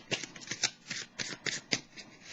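Tarot cards being shuffled by hand in several quick riffling bursts, close and fairly quiet, with short pauses between them.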